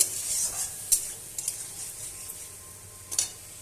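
Chhana (cottage cheese) is stirred and sautéed in a hot pan: steady soft sizzling with scraping spoon strokes and a few sharper clicks against the pan, close by, with no talking.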